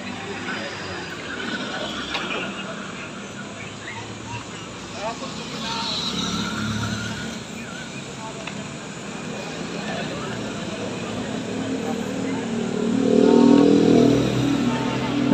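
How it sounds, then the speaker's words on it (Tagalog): Busy street traffic in Makati City, with cars and motorcycles passing in a constant mid-level rumble that swells louder near the end as a vehicle revs close by, and voices murmuring in the background. "Ang daming sasakyan pala dito."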